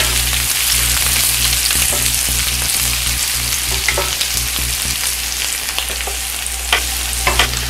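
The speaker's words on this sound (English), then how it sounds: "these potatoes have been cooking for about 6 to 7 minutes now." Baby red potatoes sauté in butter in a pan, a loud continuous sizzle close by with occasional scraping and tossing knocks, no voices.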